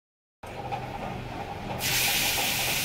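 Dhapate flatbread hitting a hot oiled tawa, a steady low frying crackle that swells into a loud, bright sizzle and hiss partway through and stays strong to the end.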